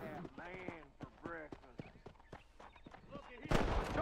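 Horse hooves clop in a quick, uneven rhythm in the Red Dead Redemption video game, mixed under in-game voices, with a louder burst of noise near the end.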